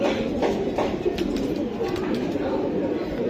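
Pigeons for sale at a market coo softly in a few low, rounded calls over background murmur, with people talking nearby.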